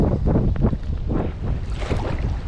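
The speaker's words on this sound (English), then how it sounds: "That wind is really blowing." Strong wind buffets the microphone on open water during a kayak outing, producing loud, gusty low rumbles and whooshes that surge and ease without a break.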